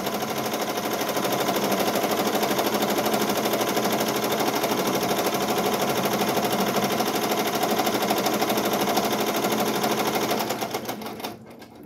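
A home embroidery machine runs a continuous rapid stitching chatter while sewing the placement stitch for appliqué letters, close and steady throughout before easing off at the very end.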